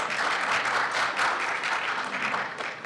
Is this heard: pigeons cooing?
no